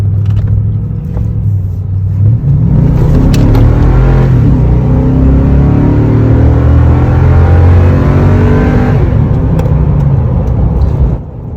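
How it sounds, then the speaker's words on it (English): A 2013 Toyota Tundra pickup truck accelerates hard on an open road, its engine note climbing in a loud, rising roar through several gear changes, heard from inside the cab without speech. "Right here, I'll do a little acceleration to send off the video."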